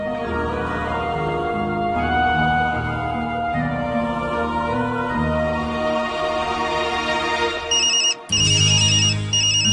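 A melodic phone ringtone plays loudly and continuously, a repeating electronic tune with a short break near the end before resuming.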